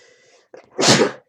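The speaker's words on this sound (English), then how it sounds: "I had to sneeze" A single loud sneeze up close, preceded by a short breathy intake, with no talking.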